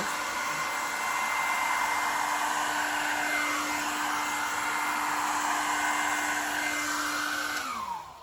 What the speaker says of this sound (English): Don't keep blowing it with the blow dryer because it'll go muddy.